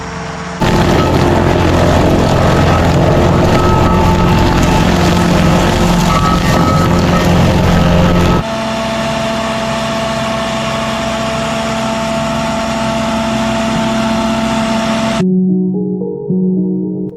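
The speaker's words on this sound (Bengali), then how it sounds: "এই মেশিন গাছের গুঁড়িকে কাঠের গুঁড়ো বানিয়ে দেয়। হাইড্রোলিক সিস্টেম আর শক্তিশালী ব্লেড দিয়ে কাঠ কেটে মাটিতে মিশিয়ে দেয়।" A 100-horsepower Prinoth Raptor 100 hydraulic forestry mulcher grinding stumps, roots and brush into mulch, a loud continuous engine roar with grinding texture that drops in pitch midway and then cuts off to a quieter idle.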